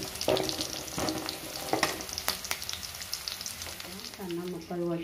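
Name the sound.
cucumber (dosakaya) pieces added to hot oil with onions, frying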